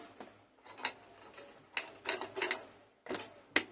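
A spoon scrapes and clinks against a cooking pot while sugar is stirred into khichuri ingredients, with irregular bursts of metallic scraping and tapping between short pauses, close and quiet.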